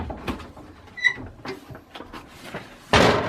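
A bathroom door aboard a Golden Star Sun Deck 40 liveaboard trawler opening: soft knocks and a brief squeaky latch click, ending in a sharper, louder rattle as the door swings.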